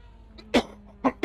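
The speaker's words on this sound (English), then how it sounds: "It's a little tickly cough, and it's so frustrating." A person with a tickly cough coughs three short, dry times up close, with a faint throat catch before the first cough and brief pauses between them, under a quiet background hum.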